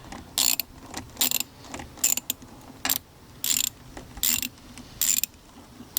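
A ratchet loosening a clamp on the throttle body of a 2024 Mustang GT, with repeated close bursts of rapid clicking, about eight short runs in a steady rhythm, loud and alone.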